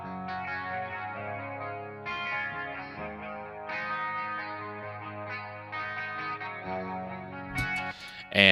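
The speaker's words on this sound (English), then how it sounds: "I have these clean guitars here. They sound like this." A clean electric guitar, dressed in an Amplitube patch, rings out in sustained chorus-shimmered chords with light echo, played steadily and upfront before a brief sharp burst near the end.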